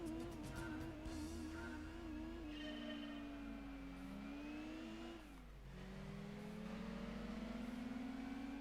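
Nissan March driving in Gran Turismo 2, its engine droning and revving through gear changes with pitch rising and falling, brief tire squeal and skid sounds, loud and steady throughout.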